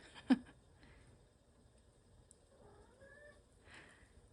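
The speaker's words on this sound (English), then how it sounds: "she was meowing at me" A few soft, short cat meows, scattered with quiet pauses between them, heard close by in a quiet room, with a brief sharp knock near the start.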